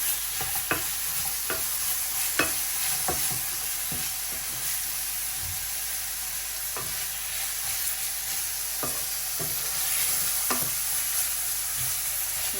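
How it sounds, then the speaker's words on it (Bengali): Meat browning in a pan with chopped onion, a continuous sizzle punctuated by sharp, irregular scrapes and knocks of a stirring spoon, close and fairly loud with no voices. "এই যে এখন মাংসটি দিয়ে দিলাম মাংসটি ভাজা ভাজা করে নিই"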